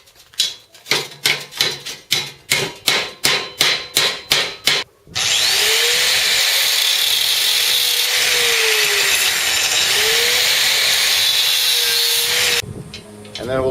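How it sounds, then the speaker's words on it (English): A hammer pounds bent metal down with about a dozen evenly spaced, ringing blows. A loud, continuous power-tool whine then takes over and runs steadily until it cuts off near the end. "And then pound it down the rest of the way with the hammer."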